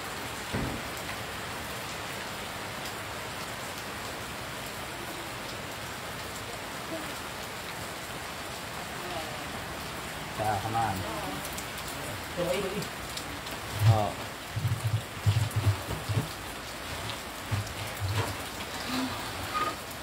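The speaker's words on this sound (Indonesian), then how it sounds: "Hujan ya, Bon." Steady rain falls on a surface throughout, a continuous close patter with scattered heavier drops; voices talk briefly near the end.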